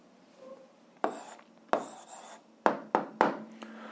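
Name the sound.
writing the answer by hand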